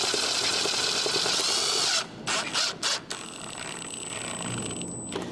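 A power drill drives screws into a carbon front splitter on a BMW M3/M4, a steady whirring run that halts, then comes in short bursts, with a thin high whine over it.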